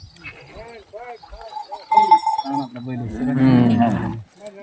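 A bull lets out a long, deep low partway through, while someone talks nearby before and around it.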